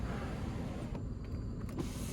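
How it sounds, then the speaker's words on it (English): Power sunroof on a 2020 Bentley Mulsanne Speed tilting open: a short, quiet electric motor whir with faint creaks, heard over a steady low cabin hum. "Now I think you can only tilt the sunroof."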